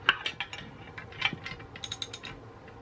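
A ratchet wrench loosens a swing arm bolt on a Sur Ron Light Bee electric dirt bike, giving a series of quick, close clicking bursts in an uneven rhythm.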